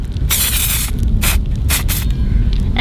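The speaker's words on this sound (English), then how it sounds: "and spraying this at the same time" Aerosol can spraying in bursts during a van build project, loud hissing blasts of varying length, one long and several shorter, with background noise beneath.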